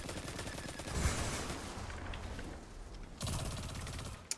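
Exploding Shanks attack in a lost sector of a video game, sounding as dense crackling gunfire and blasts with a heavier burst near the end.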